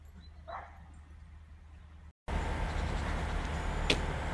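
Dogs barking outdoors, heard as a couple of short, distant yelps separated by a few seconds over steady ambient street noise, with a brief dropout in between.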